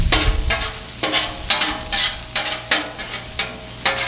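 Onions and steak sizzle on a Blackstone griddle while a metal spatula scrapes and pushes them aside in repeated strokes, close and loud over a steady frying hiss, with no talking.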